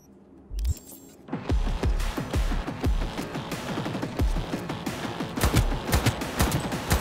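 Rapid bursts of video game gunfire in Cyberpunk 2077 follow a brief quiet start and hit in a dense, punchy barrage of repeated shots with a low droning hum underneath, loud and sustained.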